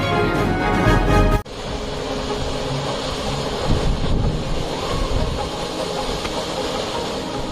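Sautada waterfall in Beed district during the monsoon month of Shravan, a steady broadband roar of falling water with wind buffeting the microphone, loud and continuous after a sharp cut near the start.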